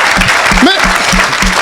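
Church congregation applauding, a loud, dense wash of clapping with a rhythmic pulse, while a voice speaks briefly over it.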